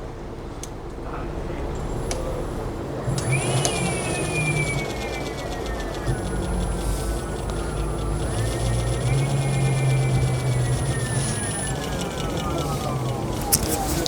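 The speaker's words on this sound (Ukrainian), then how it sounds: "Ось так цей двигун шумить." An ELEEK Atom or Talaria Sting electric dirt bike motor revs, whining steadily, its pitch climbing and falling in long sweeps over a constant background rumble. No one speaks.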